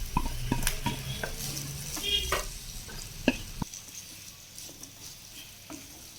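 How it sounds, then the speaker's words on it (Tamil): Soaked dried anchovies (nethili karuvadu) dropped into oil in a small pan, giving a sizzle with scraping stir strokes and light clatter, loud at first then quieter after a few seconds. "ஒரு சின்ன பேன் வச்சுட்டு பேன் வச்சுட்டு அதில் எண்ணெய் விட்டுக்கலாம். பாருங்க, அதில் இந்த ஊற வச்ச கருவாடு அதில் போட்டுடலாம்."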